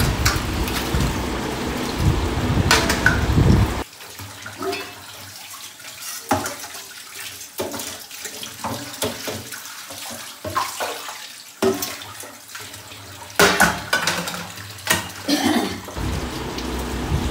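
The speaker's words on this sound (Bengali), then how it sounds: "এবার বাসন মাজার লোক চলে এসছে, সে বাসন মেজে নিচ্ছে" Dishes, pots and pans are scrubbed and rinsed under running water from a tap, with steady splashing broken by clinks and knocks of utensils, close and loud.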